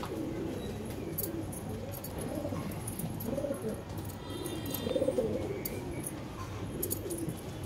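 Madrasi pigeons coo softly in low, rolling murmurs, several birds overlapping, with faint chirps and light background clatter.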